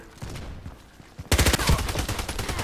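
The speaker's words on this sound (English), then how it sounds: "How can he shoot so fast?" Rapid automatic gunfire in the online shooter Contract Wars, first as scattered shots a little further off, then a loud, dense burst of fast, close shots.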